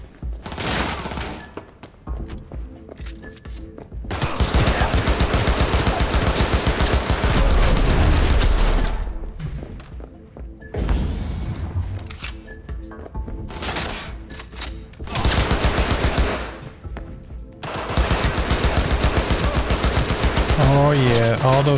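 Gunfire in the video game Cyberpunk 2077: loud bursts of rapid automatic shots in several volleys, separated by short quieter gaps with in-game sounds.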